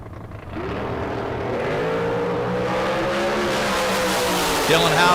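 Drag race cars launch down the racetrack at the K&N Spring Fling Million, engines roaring and climbing in pitch as they accelerate. The sound is loud and sustained, with a voice faintly under it.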